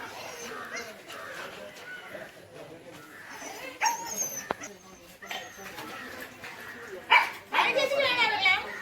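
A dog gives short barks, yips and whimpers in bursts, fairly close, mixed in among people talking nearby.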